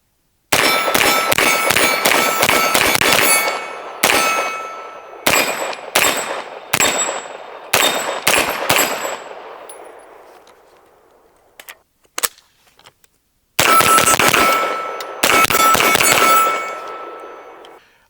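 Geforce Blade pistol-caliber carbine fired outdoors, a rapid string of sharp, loud reports with ringing metallic decay, a pause, a faint click, then two more loud shots close by; no speech.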